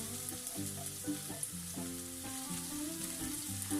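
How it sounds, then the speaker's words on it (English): Onions frying in hot cooking oil in a pan, a steady close crackling sizzle with scattered pops throughout, no talking. "I'm going to put some cooking oil, and I'm going to fry first the onion."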